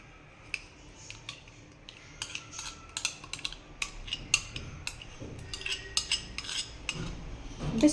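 A spoon stirs a date and milk mixture into sprouted ragi flour for a chocolate cake, with irregular metallic clinks and scrapes against the bowl, close and fairly quiet.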